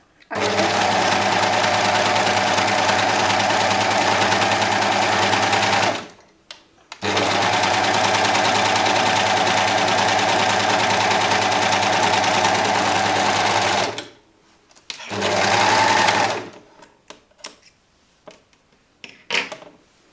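An overlock sewing machine runs steady bursts while sewing a roller stitch on fabric, with two long continuous runs, a shorter burst and brief pauses between them.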